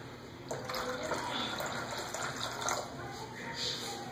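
Water from a large water jug is poured into a bowl to make a self-watering planter, a steady splashing gush close by with a voice talking over it.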